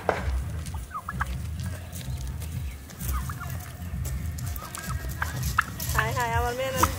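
Free-range farm turkeys gobble in a short warbling burst near the end, with scattered bird calls over a steady, noisy farmyard background and people talking.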